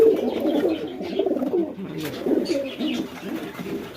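Pigeons coo steadily inside a coop, layered soft throaty calls overlapping close by with no pauses.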